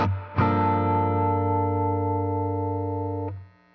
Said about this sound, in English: Sounds like an amp, right?